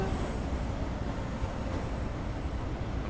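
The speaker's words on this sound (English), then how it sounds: "Hey, oncoming train, hello." An oncoming train passes in Train Sim World 4 on a London Overground route between Barking Riverside and Gospel Oak. A steady, loud rail rumble holds level throughout, with no voices.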